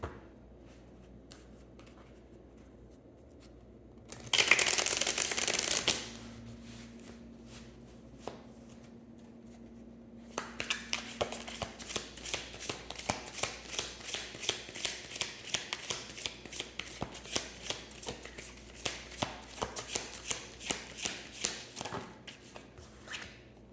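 Tarot cards are shuffled in a brief loud riffle burst, then handled with a steady run of soft, rapid flicks and taps for a closing card draw, close up with no talking.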